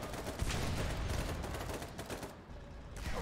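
Gunfire rattles in the war game Foxhole, a dense continuous fusillade of overlapping shots at moderate distance, steady for about three seconds with a short lull near the end.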